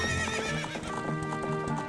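Wild horses in Zelda: Ocarina of Time gallop with rapid, rhythmic hoofbeats while a high whinny rings out over them, all close and loud.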